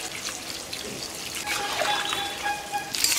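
Milk poured into a cooking pan while making sukto, a Bengali mixed-vegetable dish with poppy seed, ginger and peanut paste: a steady, close liquid trickle running for about three seconds with no talk.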